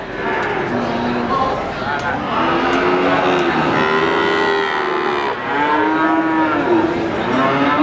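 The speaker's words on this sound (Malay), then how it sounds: "Sapi-sapi bibitan betina dari Pasar Sapi Waginan Warkurjo Pati" Female breeding cows low repeatedly at the Waginan cattle market in Pati, several overlapping moos near and far over a busy crowd murmur with people talking.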